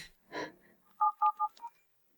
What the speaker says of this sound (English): I'll call her right now.